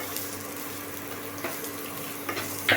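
Chopped garlic and onion fry in hot oil in a pan with a constant low sizzle, broken by faint stirring scrapes and a brief brighter crackle at the end.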